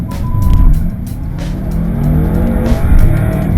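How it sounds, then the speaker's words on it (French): BMW M5 V8 of 560 hp with ESP switched off, accelerating hard in sport mode: a loud, steady engine roar building continuously through the run, close to the microphone, with no talk. "Elle pousse pas cette voiture, elle catapulte 0 à 100 km/h, 4 secondes 4"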